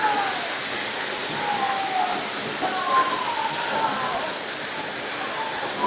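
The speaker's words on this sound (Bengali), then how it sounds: "পনেরো থেকে কুড়ি মিনিট ট্রেকিং করে পৌঁছে গেলাম ধারাগিরি জলপ্রপাতে" Dharagiri waterfall pouring over rocks in Ghatshila, a steady full rush of falling water heard up close, constant and loud throughout, with faint background voices.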